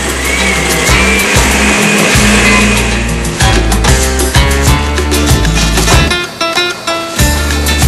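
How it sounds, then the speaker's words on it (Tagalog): A blender runs loudly and steadily, its motor grinding and churning with uneven surges as it crushes fruit flesh for fruit wine, then settles back into a continuous whir. "Dudurugin ang laman sa pamamagitan ng blender."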